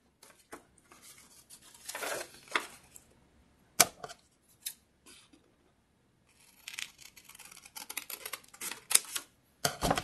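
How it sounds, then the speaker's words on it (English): Scissors cut through a sheet of folded paper for a tunnel book, giving bursts of crisp snipping and rustling with short pauses between, close and fairly loud. "fold this in half and cut again"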